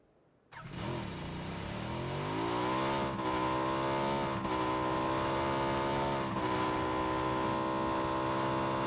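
A vehicle engine in PUBG starts with a sudden rise, then holds a loud, steady droning hum with rising pitch, as if accelerating in gear, with a few brief shifts or bumps along the way and no talking.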